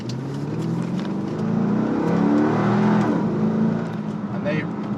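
A 1998 Chevrolet Corvette two-seater with 24,805 miles hums steadily on a test drive, engine note rising and falling through shifts beneath someone talking over it.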